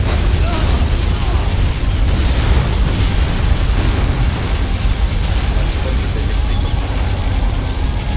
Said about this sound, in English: Releasing particle cannon.